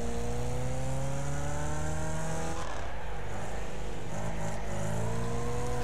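Race car engine from the Wreckfest racing game drones steadily throughout, with a falling then rising pitch as it downshifts and pulls through a pack of cars.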